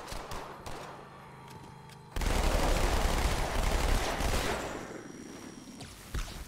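Gunfire in a Halo 2 Anniversary firefight, with a few faint shots giving way to a dense, loud burst of sustained automatic fire lasting several seconds, then trailing off.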